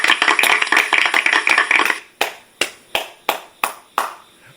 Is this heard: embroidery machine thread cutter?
no